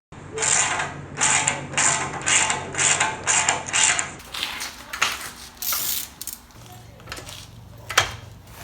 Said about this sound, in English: Put a few cranks on that.